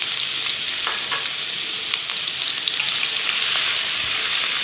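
Chopped onions sautéing in a little oil, a bright, steady sizzle up close with occasional soft stirring taps, no voices.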